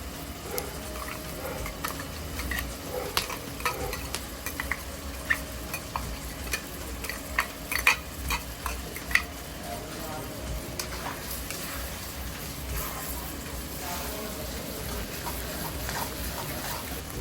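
Ginger garlic paste being stirred into roasted onions frying in a pan, steady sizzling with scraping spoon clinks and occasional sharper knocks against the pot.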